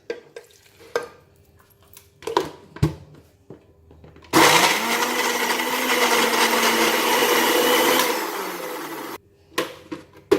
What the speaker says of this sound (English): I have put all the ingredients in the blender